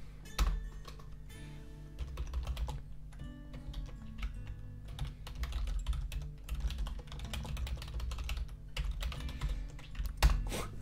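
Quick typing of a chat reply on a computer keyboard during a Curve Fever gaming session: rapid, close key clicks in uneven bursts over a low background hum.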